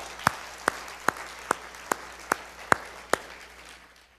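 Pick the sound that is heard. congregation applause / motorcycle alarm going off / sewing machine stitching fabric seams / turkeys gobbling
congregation applause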